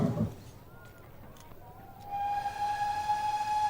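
A steam train at a station in a radio drama, with a rumbling hiss that gives way to a long, steady whistle that swells and holds, fairly loud and near.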